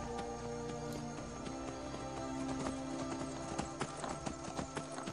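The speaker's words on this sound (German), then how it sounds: "Schneller, Pferdchen, schneller!" Horse hooves clip-clop rhythmically in the video game Skyrim, a steady galloping beat close up over game background sounds and music, growing more distinct toward the end.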